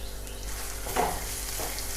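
Shallots, green chili and curry leaves sauté in oil in a pan, giving a steady close sizzle with a brief swell of stirring midway, no voices.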